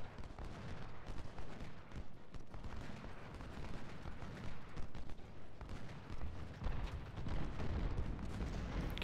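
Three infantry brigades firing muskets in line in the Civil War video game Ultimate General: Civil War, a continuous distant rolling crackle of volleys with heavy low rumble, steady throughout and without voices.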